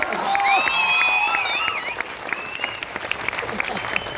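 Loud crowd applause with shrill whistles at a business seminar, the whistling strongest early on before settling into steady clapping with some voices mixed in.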